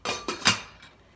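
A metal pot lid clanks against a pot on a stovetop burner, three quick metallic knocks with a ringing tail, close and alone.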